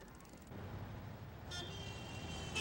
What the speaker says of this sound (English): Rush hour traffic can be hectic for bicyclists as well as motorists.